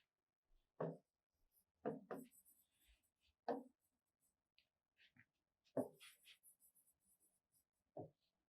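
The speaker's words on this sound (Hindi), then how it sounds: "इसकी स्टेटमेंट लिख देते हैं।" A pen scratches on paper while a geometry statement is written out in a maths lesson. Short, quiet, close strokes come in separate bursts with pauses between them.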